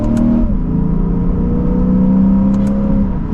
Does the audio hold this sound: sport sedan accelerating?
yes